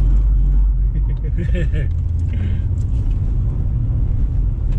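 A car pulls a handbrake turn into the first corner of a drift practice session, giving a loud, steady engine rumble close by with a brief scrabbling burst midway and talk over the top.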